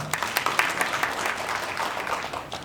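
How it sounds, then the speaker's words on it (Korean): An audience at a village self-governance results-sharing meeting claps for the first presenter, a village head; a brief patch of moderate, scattered applause with a few faint voices. "큰 박수 부탁드립니다"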